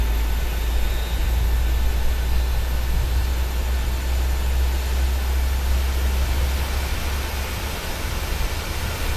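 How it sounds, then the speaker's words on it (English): Engine of a PMDG 737 airliner starting in Microsoft Flight Simulator, a loud, steady broadband roar with a deep low rumble and faint high whine, constant throughout. "As you can see, the engine is starting right there."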